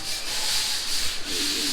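Steady abrasive rubbing of sanding across drywall mud and tape in a house under construction in the Philippines, a continuous hissing scrape that holds at a constant level, close by.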